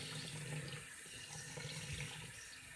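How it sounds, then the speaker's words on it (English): Cold tap water running steadily over cooked somen noodles in a sink, a continuous close hiss and splash with no talk. "rinse it off really well in cold water"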